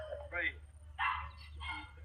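Several dogs of a foreign breed bark in excited bursts while greeting a returning family at home in Ethiopia, close and fairly loud, with people's voices mixed in between the barks.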